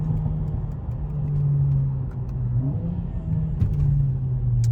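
A Mercedes-AMG car pulls hard as the driver floors the throttle, its engine a steady low rumble and whir that swells and holds close throughout, with no talking over it.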